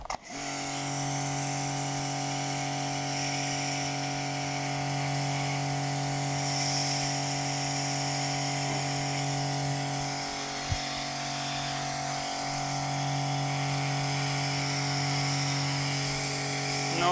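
A Mächtz MPW-2551 PRO 210-bar high-pressure washer runs continuously nearby, a steady motor whine with a strong hum, one brief click partway through, no talk.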